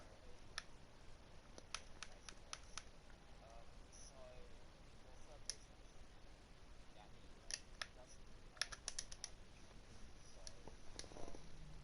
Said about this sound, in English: What he's typing out his message, probably talking about the race.